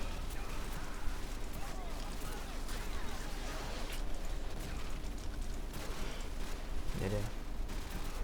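Call of Duty 4: Modern Warfare gunfire during a mission, scattered shots and bursts over a dense, continuous wash of game noise and rumble, at moderate level throughout.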